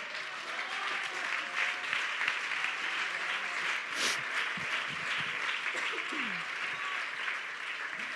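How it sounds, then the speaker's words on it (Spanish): A church congregation at a women's camp applauding: steady, dense clapping from a large crowd filling the whole stretch, with faint voices and a few cheers underneath. "Dele un aplauso al Señor."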